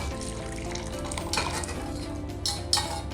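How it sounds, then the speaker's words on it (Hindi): A metal whisk stirs dal paste in a bowl, giving a steady wet scraping with a few sharper clinks against the bowl, close and fairly loud with no talking. "आप इस तरह के विस्क से भी कर सकते हैं दाल को लिक्विफाई"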